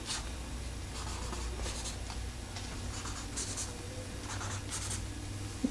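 A pen marks small points on envelope paper beside a score line, making faint, close scratchy strokes in short bursts over a quiet background.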